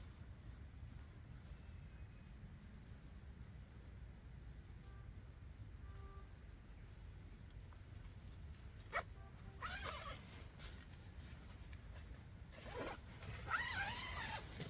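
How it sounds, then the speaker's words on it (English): Zipper of a budget camping sleeping bag drawn in several short rasping pulls near the end, faint and close over a low hiss of ambient noise. "I like how the zip didn't snag there either."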